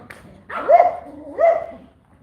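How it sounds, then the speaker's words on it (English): A dog barks twice, close and sharp, with a short pause between the two barks. "Sorry about the barking"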